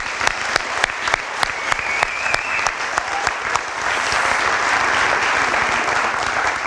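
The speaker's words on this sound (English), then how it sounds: "One more big round of applause for the 2014 Volleyball Dream Team." Sustained audience applause at a high-school sports awards ceremony, honoring the 2014 volleyball dream team: a dense, steady wash of many hands clapping that swells louder partway through, with no talk over it.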